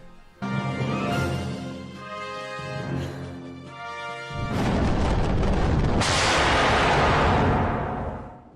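An explosion in a Touhou video game: a sustained tonal swell gives way to a heavy, broad boom that surges louder and then fades, dense and close.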